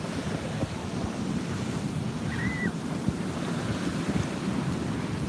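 Steady, broadband roar of surf rolling in, with gusty wind buffeting the microphone throughout and no voices.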